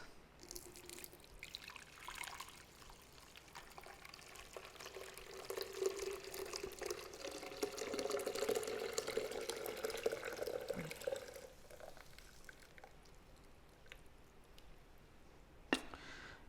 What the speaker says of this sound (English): And pour it into our blender.